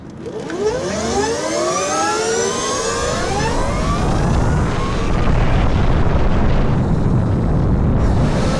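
A LAND Moto Super District electric motorcycle launching hard from a standstill, its motor whine rising steeply in pitch over the first few seconds, then giving way to loud, rushing wind noise as speed builds.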